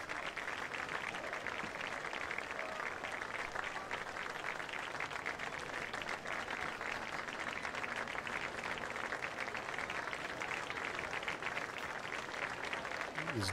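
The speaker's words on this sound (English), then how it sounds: "And hear all the Fayetteville fans cheering for him." A high school football crowd of Fayetteville Bulldogs supporters cheers and claps in a continuous, even wash of noise from the stands, lasting throughout without letup.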